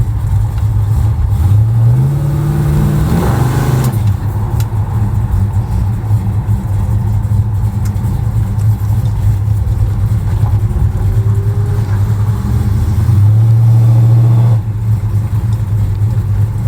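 A 1969 Dodge Dart Swinger's engine revs hard under acceleration, a loud, deep rising roar near the start, then a steady drone while cruising before another strong rev late on.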